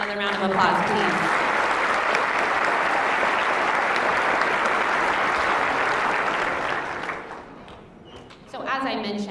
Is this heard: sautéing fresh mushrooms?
no